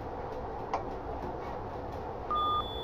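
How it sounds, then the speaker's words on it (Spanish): Two short electronic phone beeps sound near the end, a steady tone held for about a third of a second over a low background hum, with a faint click earlier. "que le están llamando por teléfono"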